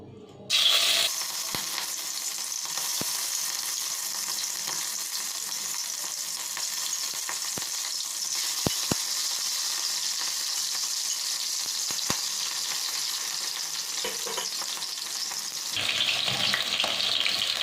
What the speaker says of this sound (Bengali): এবার আমি তেলের মধ্যে চিংড়ি মাছটা দিয়ে ভেজে নেব।